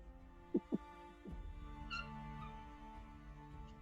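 A kitten gives two short, close meows in quick succession, followed by a softer third call, with a faint low room hum underneath.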